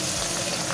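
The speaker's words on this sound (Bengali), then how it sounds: "এই দেখো ওদিকে তো মাছ ভাজা শুরু করে দিয়েছি" Pieces of fish, tengra and pabda, fry in hot oil in a pan, giving a dense, steady sizzle up close with no talk.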